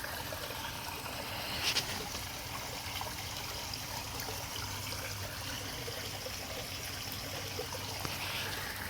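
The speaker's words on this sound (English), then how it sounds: "I'm gonna run her through the stream sluice." Gentle, continuous trickle of water running through a stream sluice outdoors on a cool day while prospecting for gold in Montana, soft and steady with faint splashes.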